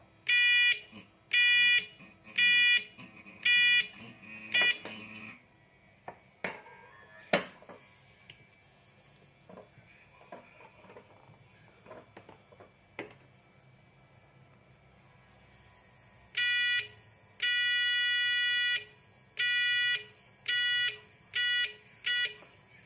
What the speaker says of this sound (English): you have the sound of the buzzer.